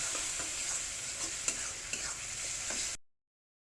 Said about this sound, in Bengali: এবার একটু নেড়ে নেব, ভালো করে সব মিশিয়ে নেব।